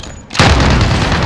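Grenade explosion in Warzone on Alcatraz, a single sudden loud boom that hits hard after a moment of quiet and rumbles on in a broad sustained roar.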